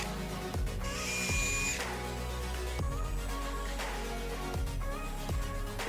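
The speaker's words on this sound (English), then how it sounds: "along here, we're going to put our self-tapping screws, and in here, just a wood screw to go into that backer." A power drill drives self-tapping screws into an RV roof fan on a cargo trailer camper roof: several short whining bursts from the motor, with pauses between each screw.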